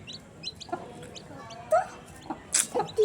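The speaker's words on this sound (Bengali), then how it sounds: "দস্যু মুরগি।" A hen clucks in a few short, close bursts among quieter rustling, near a batch of newly hatched chicks, with sharper clucks grouped toward the end.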